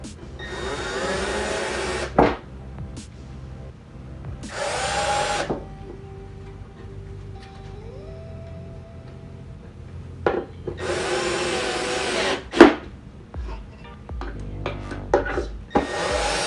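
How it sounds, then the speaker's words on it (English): A power drill drives screws through a sheetrock patch during repair of a hole, in three separate whirring bursts with quieter handling and scraping noises between them, close by. "So let me grab the drill and screws and screw this in"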